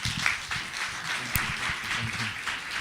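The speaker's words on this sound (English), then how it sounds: "And I think they deserve a round of applause." Audience at a book launch applauding the publisher, a brief burst of close, dense clapping from a modest crowd, with some voices murmuring underneath.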